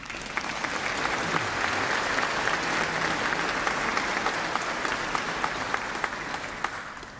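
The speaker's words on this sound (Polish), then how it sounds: "Wielkie brawa dla was." Sustained applause from a large congregation filling a cathedral at a memorial Mass for the Smolensk crash victims, a dense steady roar of clapping with sharper individual claps standing out, somewhat distant and reverberant.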